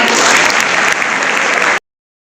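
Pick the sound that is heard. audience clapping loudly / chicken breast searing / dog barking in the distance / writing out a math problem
audience clapping loudly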